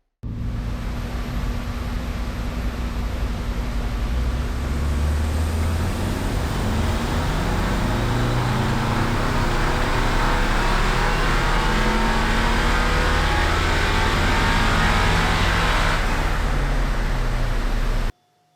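A tuned 2015 Audi A3 2.0T AWD running E85 on a Stage 1 tune revs hard on a dyno. Its engine roar and turbo rush build loudly and continuously for about eighteen seconds, then cut off abruptly.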